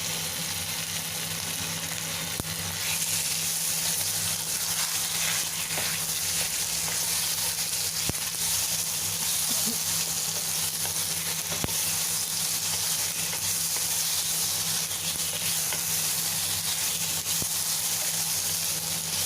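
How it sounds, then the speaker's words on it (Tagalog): Beef frying in oil in a pan for a Chinese-style dinner dish, a steady loud sizzle with a few small pops and clinks, continuous and close, with no talking. "Tapos, fry natin ang ating beef."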